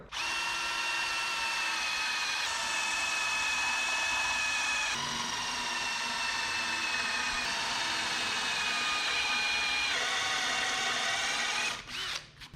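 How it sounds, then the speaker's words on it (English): A power drill steadily boring into welds in the sheet metal of a 1976 GMC short-bed truck, a loud, continuous high-pitched whine with slight pitch shifts, heard alone until it stops near the end. "I'm not gonna drill them all the way through, just deep, about as deep as I think the metal is"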